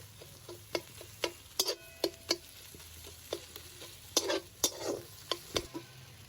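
Bread fingers shallow-frying in a little oil in a home kitchen, a low steady sizzle broken by sharp, irregular clicks and taps of a utensil against the pan, close and fairly quiet with no talking.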